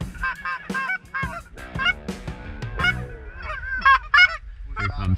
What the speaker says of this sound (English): is that a pair of honkers flying far apart?